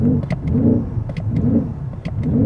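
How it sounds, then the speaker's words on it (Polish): A BMW XM hybrid's engine starts and runs close by, a low rumbling hum that swells and eases in regular pulses, with faint clicks over it. "Teraz wszedłem w hybrid i od razu się włączył silnik"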